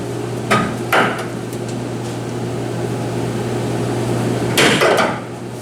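Hammer blows on a truck fender in a garage: two sharp strikes early, then a pair of heavier blows near the end, over a steady mechanical hum, with no talk.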